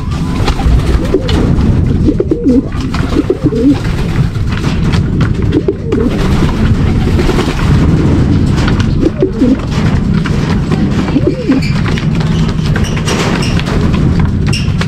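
Low, throaty cooing of racing pigeons repeats steadily from several birds close by, with occasional soft thuds and fluttering among them.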